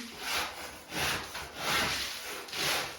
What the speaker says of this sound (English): we should be done scraping the ceiling